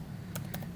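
Two quick keystrokes tap on a computer keyboard, close and crisp, over a low steady hum.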